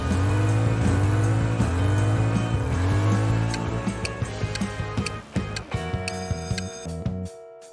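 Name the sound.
Mitsubishi 3000GT VR4 car, twin-turbo V6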